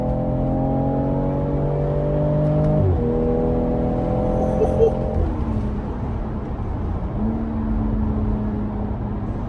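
A 2018 BMW X3 M40i accelerating hard, its engine note climbing through the gears with a shift break partway, heard from inside the cabin, loud and continuous.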